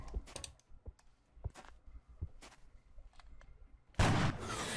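A gunshot in the video game XCOM: Enemy Unknown: keyboard clicks and quiet game sounds, then a sudden loud, close burst of fire that keeps roaring to the end.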